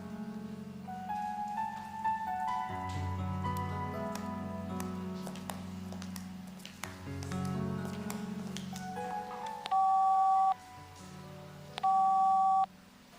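Telephone line tones from an operator come as two short, clean beeps near the end, playing over soft background music in an Indonesian TV film.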